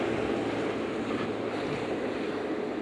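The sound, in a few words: strong wind outdoors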